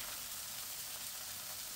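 Green chillies frying in a pan hiss and sizzle faintly and steadily after a splash of water is added, a constant soft crackle with no talk.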